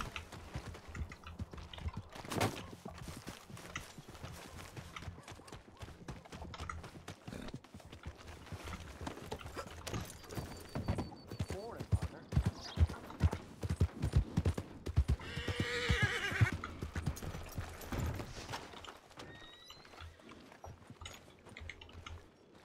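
A horse in the western roleplay game RedM clip-clops along in a steady walking rhythm, hooves knocking close and clear, with a whinny partway through and some mechanical clicking amid the footfalls.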